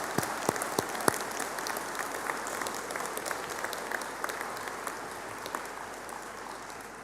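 Graduation ceremony audience applauding steadily as Law honours graduates stand, a dense continuous wash of many hands clapping with a few sharper near claps, sustained throughout.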